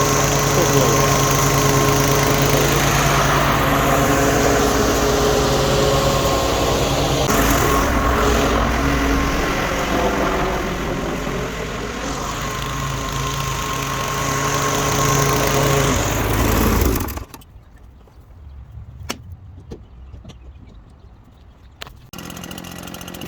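A leaf blower roars steadily while blowing sand and debris off a yard, loud and close for most of the stretch before cutting off abruptly, leaving quieter outdoor sounds.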